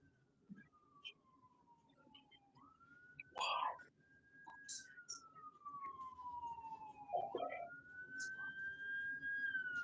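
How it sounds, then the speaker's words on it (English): A distant ambulance siren wails with a slowly falling and rising pitch, faint and steady, while people murmur nearby. "There's an ambulance over there."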